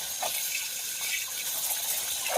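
Water running steadily from a tap while pumpkin leaves are rinsed of sand in a kitchen, a continuous close splashing hiss with no talk.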